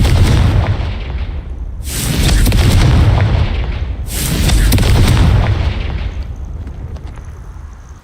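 Two heavy booming blasts from the Confringo blasting curse in Hogwarts Legacy, each a loud broadband burst lasting about two seconds with a rumbling low tail, spaced a couple of seconds apart over a steady low background.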